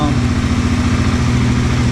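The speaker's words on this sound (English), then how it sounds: "I had to start the bike, which was super weird" A Royal Enfield Himalayan motorcycle engine idles close by with a steady low throb, while a voice talks over it.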